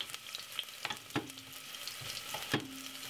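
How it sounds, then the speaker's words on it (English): A medium red onion fries in a pan for a stir-fried vegetable dish, giving a faint, low sizzle with a few soft clicks and scrapes from stirring, with no voices. "that's the red onion which I want to fry now first"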